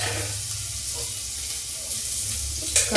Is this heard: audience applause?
no